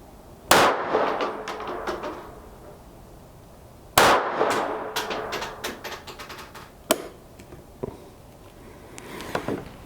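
A Ruger LCP II .22 Lite pocket pistol fires several sharp, loud cracks at uneven intervals, with long pauses between some shots. Each report is close and punchy, followed by a brief ringing decay and small metallic clatter.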